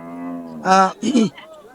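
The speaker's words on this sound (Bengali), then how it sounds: "এই পাশে একটি বেশ বড় একটি গরু আছে" A single large cow moos up close at a cattle market, a long low call that rises into a loud bellow, then a second shorter burst.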